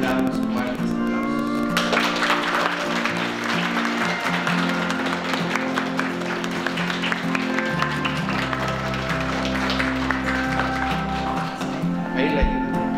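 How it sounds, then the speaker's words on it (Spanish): Applause from guests at a quinceañera celebration, a continuous patter of clapping at moderate level under steady music with sustained tones throughout. "le mandamos fuertes aplausos"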